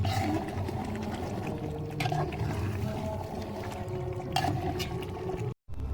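Three litres of water boil in a pot of chicken biryani, a steady low rumble with bubbling and gurgling close by, briefly cutting to silence near the end.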